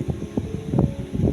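Strong wind gusting high up in a roughly 20-metre durian tree in Wonosobo, a loud rushing roar buffeting the microphone, with rustling branches and no speech.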